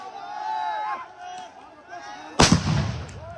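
Police fire tear gas shells at protesting farmers: one sharp, loud launch bang rings out outdoors amid crowd noise and nearby voices.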